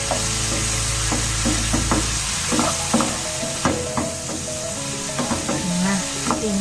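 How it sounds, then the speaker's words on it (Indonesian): Green beans and kecombrang (torch ginger flower) stirred in a frying pan with a little sweet soy sauce, a steady sizzle under repeated scraping clinks of the spatula, close and alone without talk. "Nah, kita aduk."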